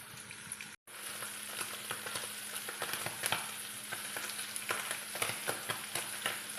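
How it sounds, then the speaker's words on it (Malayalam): Sardines frying in hot coconut oil, a steady close crackling sizzle with sharp spluttering pops scattered throughout, after a brief dropout near the start. "മത്തി നന്നായിട്ട് മൂത്ത് വരുന്നതൊപ്പം തന്നെ നന്നായിട്ട് പൊട്ടിത്തെറിക്കാനും തുടങ്ങിയിട്ടുണ്ട്."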